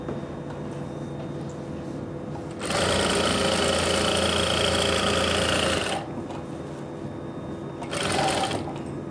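A sewing machine runs a basting seam through cloth in two bursts, a loud three-second whir of rapid stitching and then a shorter one, close up, with a low electric hum between them.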